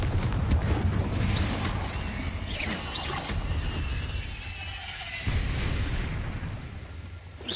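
A fiery blast spell from Hogwarts Legacy erupts in a dense, sustained roar of explosions with crackling, shattering debris, staying loud and continuous throughout.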